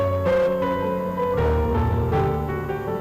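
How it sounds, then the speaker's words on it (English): AI-generated film music accompaniment swells under a held melody, with deep bass chords and layered harmonies shifting beneath sustained tones in a full, steady orchestral texture. "And then you can generate the accompaniment, in this case, some film music."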